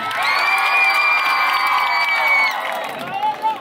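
Audience at an outdoor concert in a town plaza in Cuba cheers and applauds loudly, a dense wash of shouts and whoops holding steady for a few seconds before tapering off.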